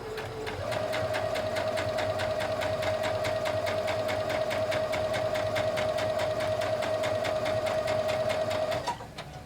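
A sewing machine stitches quilt binding fabric diagonally from corner to corner, running steadily at an even, rapid pace for about eight seconds before stopping, close and loud with no talking.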